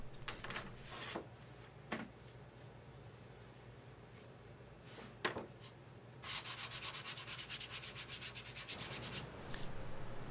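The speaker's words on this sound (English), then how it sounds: "I'll clean any burrs off with some medium grit sandpaper" Medium grit sandpaper rubs burrs off a part in quick, close scratchy strokes, starting with sparse swipes and building into a steady run of rapid back-and-forth sanding.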